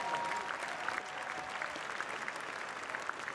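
Applause from the crowd at a Nebraska high school boys' state basketball championship, steady dense clapping that fills the arena from start to finish with no voices standing out.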